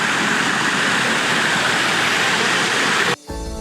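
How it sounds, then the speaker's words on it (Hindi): Dudhsagar waterfall in Goa pours down beside a railway track in a steady, loud broadband roar that fills the clip without a break, then cuts off sharply near the end. "ये ऊपर से पूरा झरना बह रहा है"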